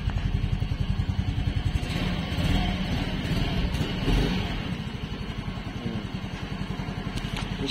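A 2023 Yamaha Fascino hybrid scooter engine starts and settles into a steady, pulsing idle close by, with a brief rise in revs partway through.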